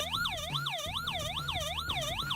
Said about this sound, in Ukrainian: в даному випадку вона звучить як сирена